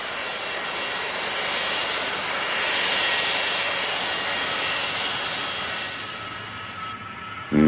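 A large, heavy airplane on the runway taking off, engines roaring in a broad steady rush that swells and then eases, loud and unbroken with no talking.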